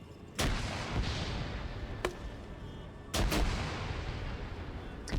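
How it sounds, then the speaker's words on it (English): Grenadier rounds fire in an Arma 3 battle as sharp, loud reports: one near the start, a lone crack midway and a close double blast further on, all over a constant rumbling backdrop of distant combat. "I love how these guys are using Grenadier rounds against each other"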